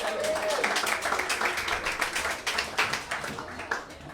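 An indoor audience gives a short burst of welcoming applause, many hands clapping together close and fairly loud before the clapping thins out.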